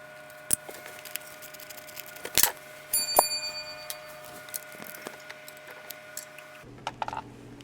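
A metal socket drops while Acura MDX coil packs are being removed: a sharp, close clatter followed by a brief bright metallic ring, set among scattered small ticks and taps.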